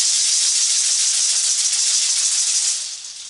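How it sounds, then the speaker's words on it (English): A ceremonial rattle shaken continuously gives a bright, dense hiss, loud and close, that fades out at the end. "Snake rattle close to your head,"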